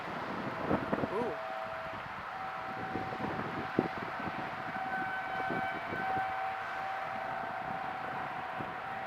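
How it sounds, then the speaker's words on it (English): Outdoor tornado warning sirens wail steadily in Erlanger, faint and distant beneath wind noise on the microphone, while people talk nearby. "Tornado sirens or something? Yeah, we're in tornado warning."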